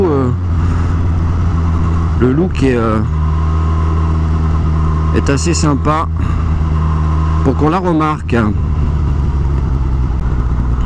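A 2019 Suzuki Katana motorcycle with a 150 hp engine hums steadily while riding, with several rising revs and gear changes. Someone talks over the engine throughout.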